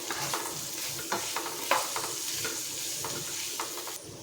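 Dry potato bhaji with rock salt gets stirred in a pan, a spoon scraping and tapping irregularly over a low continuous sizzle, close by and moderately quiet.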